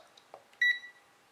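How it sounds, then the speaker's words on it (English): A pen-type digital multimeter gives a short, clear electronic beep for its continuity alarm, a single tone lasting a fraction of a second in a quiet room, preceded by faint handling clicks. "This is your continuity alarm. The alarm will sound 50 ohms or less."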